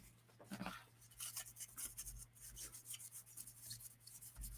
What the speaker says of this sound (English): And yep, just scrubbing.